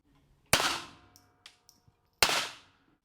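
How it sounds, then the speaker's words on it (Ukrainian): Two sharp pistol shots ring out a couple of seconds apart at a shooting range, each with a short echoing decay, separated by faint metallic clicks. "прицілюється та робить влучний постріл"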